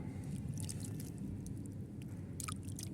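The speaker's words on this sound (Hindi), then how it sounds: "और अब डाल दूँगी पानी इसमें।" Water is poured into a small seedling pot of soil in a rooftop garden, giving a faint, soft run of squishing, trickling and dripping sounds with no talking.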